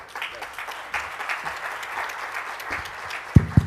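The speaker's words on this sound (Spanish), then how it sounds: "Démosle un aplauso." Conference audience applause fills the room with a sustained patter of many hands clapping, a few sharp louder claps standing out near the end.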